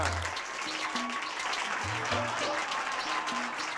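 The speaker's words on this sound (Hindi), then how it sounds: "जोरदार तालियां।" Dense applause from a crowd filling the whole stretch, with a few short musical tones sounding underneath.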